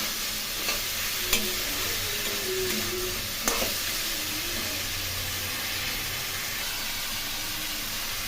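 Potatoes and cauliflower sizzle and hiss steadily in a pan of oil, with a few sharp clinks of stirring and no talking.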